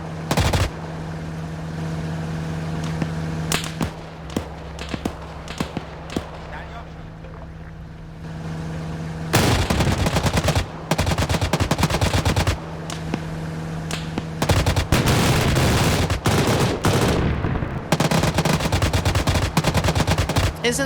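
An MG42 machine gun fires in a video game, sounding in bursts of rapid gunfire over a steady droning background, with other shots and impacts mixed in, loud and close.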